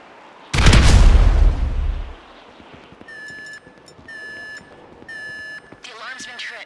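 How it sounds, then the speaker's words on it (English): A loud, close explosive charge blast booms for about a second and a half in GTA 5 during a raid on the FIB headquarters, then decays as repeated electronic alarm beeps sound in steady bursts. "The alarm's been tripped. Yeah, no shit. An explosion will tend to do that."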